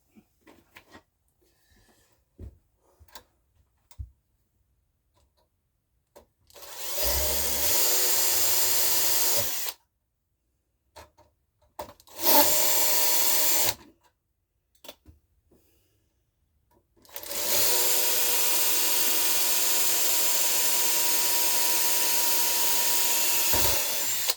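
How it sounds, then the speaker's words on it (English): Small Tamiya screws are driven into an aluminium fifth wheel release on a scratch-built model tri-axle trailer, heard as three separate runs of a close, steady motorized whir separated by quiet gaps with light handling noises. "So these Tamiya screws, they do screw into aluminium quite well."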